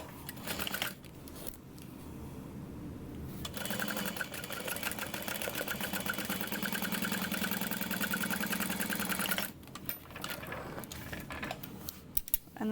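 A sewing machine runs a quarter-inch seam along a vinyl bag, its motor whirring steadily for several seconds between short pauses and brief starts, close and fairly loud, with no talking.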